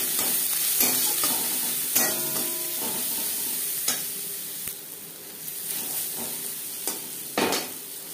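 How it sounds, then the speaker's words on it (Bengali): Onion frying in hot mustard oil gives a bright, steady sizzle with crisp crackles, punctuated by several sharp clacks and scrapes from stirring; no voices. "2 চামচ সরষের তেল গরম করে নিয়েছি। এবার দিয়ে দেবো পেঁয়াজ"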